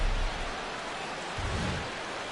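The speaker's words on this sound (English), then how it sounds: "Rain falling here in the tri-state area as we close in on game time at Yankee Stadium." Steady, hissing rain falls at Yankee Stadium in a PS4 baseball video game, an even wash of noise with a faint low rumble partway through.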